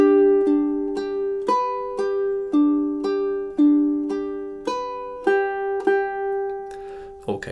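Measures 31 and 32 of Ave Maria ring out on a ukulele as an even sequence of plucked notes over a sustained chord, close, clean and unaccompanied.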